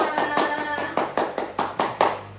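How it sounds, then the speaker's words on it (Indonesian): A short round of rhythmic clapping in a classroom, several sharp claps in quick regular succession, close by, with no talking. "Tepuk tangan untuk kelompok Meta"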